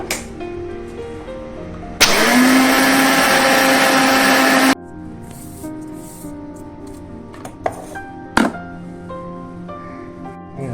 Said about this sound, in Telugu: అవి ఆవాలు పెంచి మిక్సీ పట్టుకుందాం